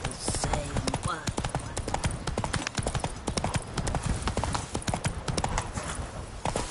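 Horse hooves clip-clop steadily in The Witcher 3, a dense, quick rhythm of close, loud footfalls over ambient game sound, with someone speaking briefly over the hoofbeats.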